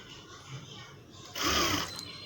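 A sewing machine stitches the side seams of a prince-cut blouse in a short, close burst of whirring after a quieter stretch of room noise.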